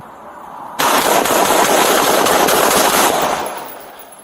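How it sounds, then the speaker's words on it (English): Gunfire erupts during a police shootout at a gas station in Portland, a loud, dense burst of rapid shots close by lasting a few seconds before trailing off. "shots fired"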